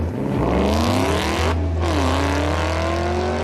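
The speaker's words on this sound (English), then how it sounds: "A Prius with a Hellcat engine in it." A Toyota Prius fitted with a Hellcat V8 engine roars loudly at close range with rising and falling revs, with a brief drop in the middle before the engine note climbs again.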